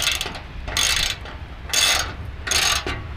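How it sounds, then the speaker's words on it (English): A 12mm ratchet loosens bolts on a 2006 Toyota Tundra, giving three bursts of rapid clicking separated by short pauses, close and clear with no talking. "Use a 12mm ratchet,"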